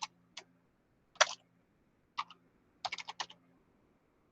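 Computer keys are typed while entering a formula in Excel, coming as sparse close clicks: single taps and short quick bursts separated by pauses, clear against a quiet background.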